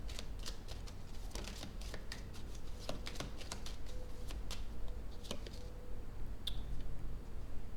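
Playing cards being shuffled and laid out during a reading, a steady run of soft riffling flicks and light slaps up close, quiet against a faint background hum, with no talking.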